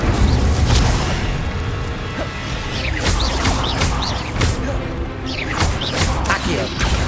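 Incendio fire spells cast repeatedly in Hogwarts Legacy, heard as a string of whooshing bursts and crashing impacts amid constant game noise, with spoken voices in between.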